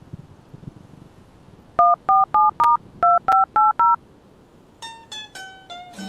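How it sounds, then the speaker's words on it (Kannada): A phone keypad sounds eight crisp dialing tones in quick, evenly spaced pairs, close and clear. A short series of higher, ringing electronic beeps follows after a brief pause, with no talking. "ಮೊದಲು ನಿನ್ ಹೆಂಡತಿಗೆ ಫೋನ್ ಹಚ್ಚ"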